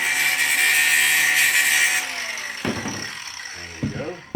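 A power grinder runs on the end of a plumbing pipe in a tiny home's plumbing work, its steady whine lasting about two seconds before tapering off into a few short clattering handling noises.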